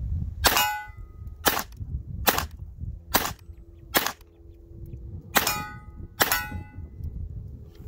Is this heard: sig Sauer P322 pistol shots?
yes